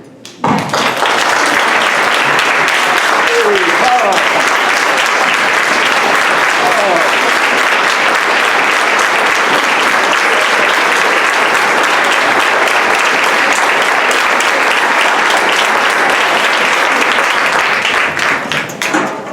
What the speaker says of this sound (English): People stand up and show your support and clap for Dr. Padilla to keep him here.